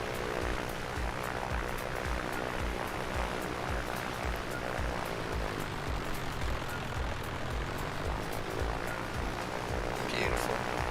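Steady droning propeller engine of a Piper Comanche 250 in Microsoft Flight Simulator, a continuous even hum at constant loudness throughout with no talking.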